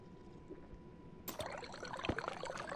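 A character drinks water in the video game Stationeers: a soft, quiet liquid pouring and trickling that begins with a brief burst and continues as a faint, textured gurgle over low background hum.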